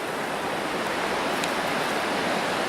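A woodland river flows past an eroded bank as a steady, dense broadband rush of water, close and continuous with no talk.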